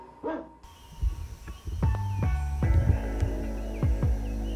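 A dog on a golf course gives a series of short barks and yips spread over several seconds, close to the listener, over a steady low hum, with no people speaking.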